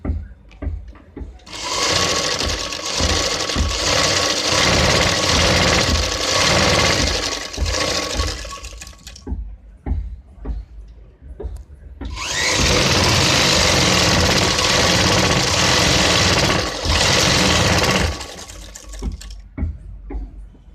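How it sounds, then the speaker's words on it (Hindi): A sewing machine runs fast stitching a neck patti strip for a blouse neck design, two long steady whirring runs separated by a pause with lighter handling sounds between them. "हम पूरी पट्टी पे एक पैर की ही सिलाई मारेंगे"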